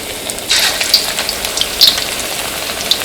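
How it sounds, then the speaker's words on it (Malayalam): Steady hiss of deep frying in hot oil, with bursts of crackle and popping as pieces go in, close and fairly loud, no voices. "അപ്പോൾ ഇനി ഇത് ഫ്രൈ ചെയ്തെടുക്കാം."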